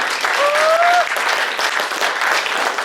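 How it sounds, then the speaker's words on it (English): Steady audience applause fills a banquet room at a chamber of commerce recognition event, a dense, even clatter of many hands held at constant loudness for about three seconds, with a brief whistle-like tone cutting through early on. "Give them all a big round of applause."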